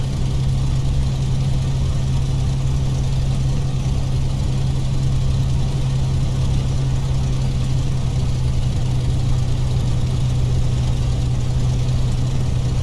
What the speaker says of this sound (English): I do gentle S turns as I taxi so that I can see what I'm likely to chop into tiny pieces with the 11-foot diameter propeller.